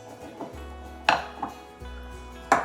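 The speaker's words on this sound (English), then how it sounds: "And if I keep stirring, the lumps will go away." A whisk knocks and scrapes against a bowl of thick, cold, lumpy ice cream bread batter, with a few sharp clinks at irregular intervals over a low steady hum.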